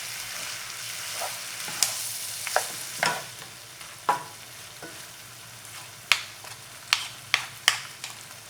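Seafood being stirred in a hot oiled pan, with a steady frying sizzle and a series of sharp scraping clacks from the utensil that come irregularly, bunched toward the end.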